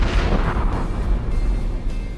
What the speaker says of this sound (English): Mishandling chemicals might even result in a fire or explosion.